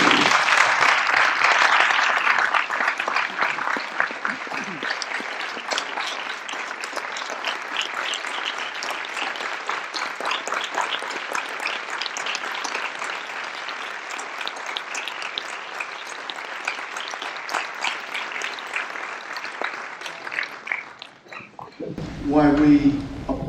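An audience at a college Veterans Day ceremony applauds veterans rising to be recognized, long sustained clapping from a large crowd that fades out near the end before a voice speaks.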